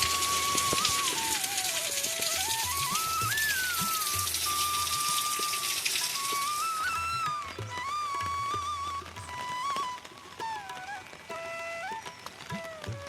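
Monsoon rain falling in a steady wash of broadband hiss, with a strong tonal warbling sound running over it throughout; no speech.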